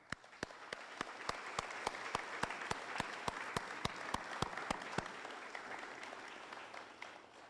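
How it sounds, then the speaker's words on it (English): Audience at a graduation ceremony for a service-dog program breaks into sustained applause, a dense crowd clapping with a few sharp, evenly spaced claps standing out near the front, fading slightly toward the end. "A round of applause."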